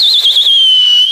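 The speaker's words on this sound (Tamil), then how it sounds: "Start the whistles." A single sustained shrill whistle blast, loud and close, holds steady for over a second as part of a Tamil film song from The Greatest Of All Time.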